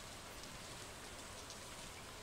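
Rain falling on a lake in the video game Stardew Valley, a soft, even, continuous patter of raindrops, faint and uniform throughout.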